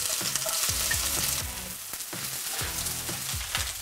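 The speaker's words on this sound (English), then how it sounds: "So to a hot pan with oil in, we're going to add the onions." Chopped onions sizzle in a hot pan of oil, a loud, steady crackling hiss broken by repeated stirring scrapes at a regular rhythm.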